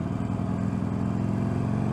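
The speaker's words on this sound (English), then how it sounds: "Let's see if we can hear this thing a bit better. Drop a gear." Harley-Davidson Iron 883 motorcycle engine rumbling steadily after dropping a gear, a deep, loud, continuous throb with no talk over it.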